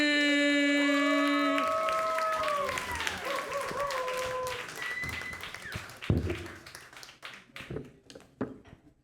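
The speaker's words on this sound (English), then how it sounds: "Everybody give a big round of applause for Jay Millie." Crowd applause and cheering at a live podcast show in Key West, starting loud and dense under strong whoops and music tones, then thinning into scattered claps and cheers as it fades.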